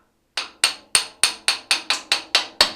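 Ten quick metallic taps of a hammer knocking a Massey Ferguson tractor's drum brake rod back into place, evenly spaced, sharp and ringing at close range after a brief silence.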